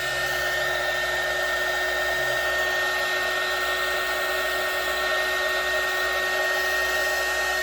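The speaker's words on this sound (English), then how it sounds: "I'm going to use my heat gun and I'm just going to blow this a little bit so it kind of moves." A heat gun blows steadily across UV resin in a coaster or trinket dish mold, a constant close whooshing hum with a faint tonal whine that holds evenly throughout, with no talking.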